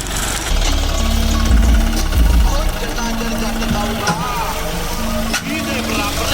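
A tractor engine drones loud and close through a wheat harvest, a steady low rumble with a humming tone, while a person talks over it.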